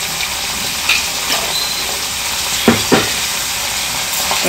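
Onions and turmeric get stirred in a frying pan for a farm-chicken curry, giving a soft continuous sizzle with a couple of louder scraping knocks from the spoon partway through.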